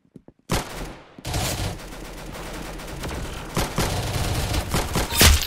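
Rapid gunfire rattles in the Roblox game Arsenal, a loud, continuous burst of shots that starts after a brief pause and ends on a few sharper bangs.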